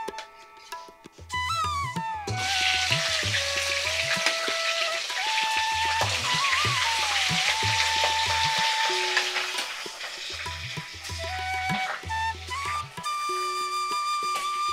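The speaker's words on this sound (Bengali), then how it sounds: "সেই মাছগুলোকে একটু সুন্দর করে ভাজা করে নেব" Fish pieces rubbed with salt and turmeric, heads first, fry in a hot wok with a loud, steady sizzle that runs throughout, under background music.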